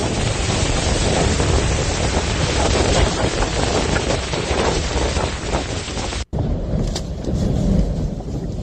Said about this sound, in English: Incredible winds